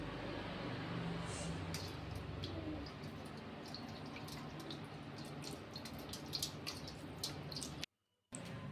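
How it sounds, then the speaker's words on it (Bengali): Water is poured over a Shiva idol for its ritual bath after sandalwood paste is applied, making a steady close splashing and trickling with scattered drips, continuous and moderately faint, with no talk. "এবার ভোলে বাবার গায়ে জল ঢেলে সুন্দর করে স্নান করিয়ে নেব।"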